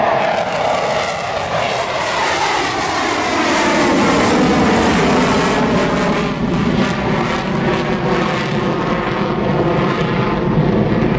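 An F-14 Tomcat jet engine spools up to full throttle, a loud, continuous roar with a rising whine that climbs in pitch and fills the air, steady and close with no talk.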